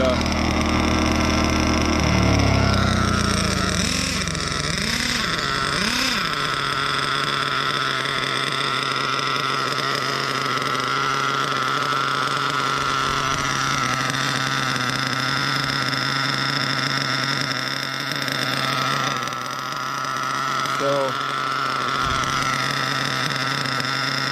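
A small high-pitched nitro engine in a Kyosho Scorpion B-XXL RC car idles steadily with a buzzing drone that holds nearly constant, after a brief rise and fall in pitch at the start.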